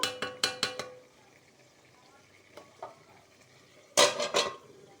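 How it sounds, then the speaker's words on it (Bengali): A lid goes onto a cooking pot of foloy fish with kochu and jika: a quick run of ringing metal clanks at the start, a quiet stretch with faint taps, then another loud clattering burst near the end. "এখন আমি এটার উপরে ঢাকনা দিয়া দিব।"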